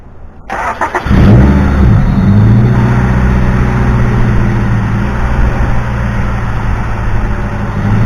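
A Honda Civic EF engine cranks briefly, catches and settles into a loud, steady running idle with a slight rev, close to the car and with no voices.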